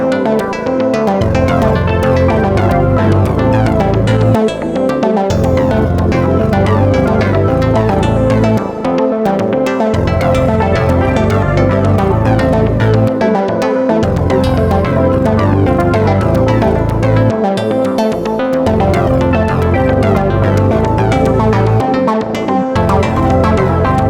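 Several synth plugins in Bitwig on Linux play together with synth effects switched on, a dense, loud full-band electronic jam with steady beats and layered tones running continuously with brief drops.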